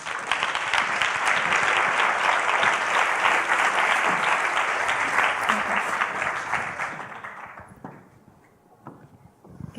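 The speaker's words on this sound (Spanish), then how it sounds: "un fuerte aplauso para ella" Dense, loud audience applause welcoming a guest speaker at a science talk, sustained for about eight seconds before thinning out into a few scattered claps near the end.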